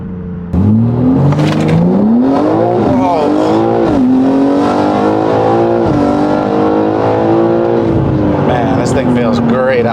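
A 2023 BMW M3 launching at a track, its engine revving hard and climbing steadily through the gears with a loud, rising howl, up close and continuous, with a brief shift dip along the way.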